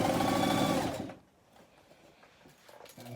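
A sewing machine hums steadily while stitching knife pleats in fabric, then stops after about a second, leaving quiet handling noise before it briefly restarts.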